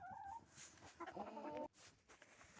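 A hen being caught by hand in a poultry yard gives a few quiet, agitated clucks and a short squawk, faint and close, with no talking.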